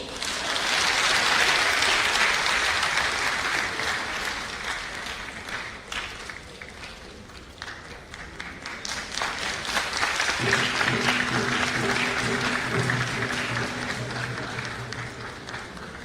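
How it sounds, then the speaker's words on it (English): Audience applause fills a theatre, a dense, steady wash of many hands clapping that carries on for the whole stretch, fading slightly midway before swelling again, with faint murmurs underneath. "Do you see where the clap ended?"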